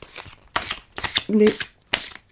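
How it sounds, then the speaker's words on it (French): Several quick riffling bursts from a deck of cards being shuffled at close range, separated by short pauses, with brief speech in between. "Bon, on va mélanger une carte."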